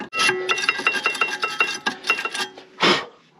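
Rapid, rhythmic rasping strokes of a stiff wire slag brush scrubbing metal brake pad clips, close up, ending with one longer heavy scrape.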